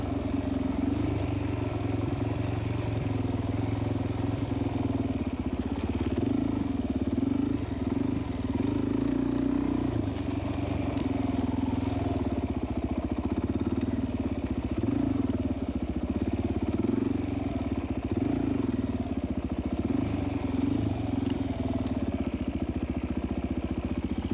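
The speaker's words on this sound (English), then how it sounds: "Time to ride this motorcycle, Jim." A motorcycle engine runs steadily throughout, a low continuous rumble with slight variations in revs and some rattling, close to the listener.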